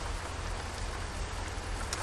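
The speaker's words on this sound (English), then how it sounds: "I also suspect the rain's not going to stop anytime soon" Steady rain falls around a truck in American Truck Simulator, a White/GMC W-Series with a Caterpillar 3306 engine, as a dense, even hiss with a low rumble beneath, constant and fairly close.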